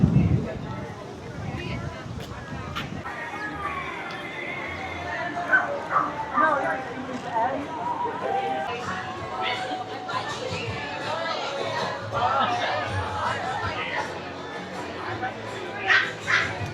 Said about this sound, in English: Look at the wiener dogs.